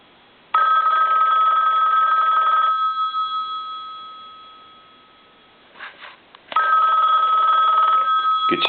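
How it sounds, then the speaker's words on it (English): An old Western Electric 2500 desk telephone bell rings loudly in two long bursts separated by a pause with a faint clunk, the ringing close and metallic. "First, we want to go ahead and ring the telephone."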